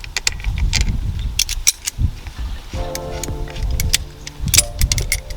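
Set screw being tightened on a Toyota Corolla clutch rod, giving close metallic clicks, scrapes and light ratcheting in short irregular bursts.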